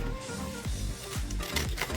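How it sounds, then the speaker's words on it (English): Scissors snip through paper while fussy cutting a small paper butterfly, producing a few quiet, separate crisp cuts mixed with light paper rustling. "now I'm just going to cut out this little butterfly"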